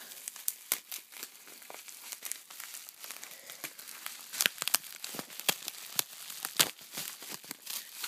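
Bubble wrap around a PS2 holiday 2004 demo disc crinkles and crackles close by while tape is peeled off in sharp, uneven rips and snaps, with no talking.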